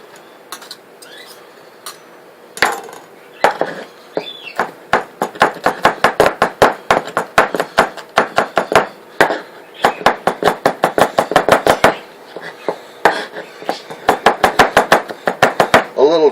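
A kitchen knife chops ingredients for shrimp fried rice on a cutting board, a close, loud series of rapid rhythmic knocks in bursts with brief pauses between them.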